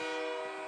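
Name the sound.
CP train horn sounding for a Sudbury Five basketball victory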